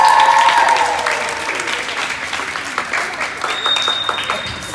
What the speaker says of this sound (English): you should give a round of applause for yourself.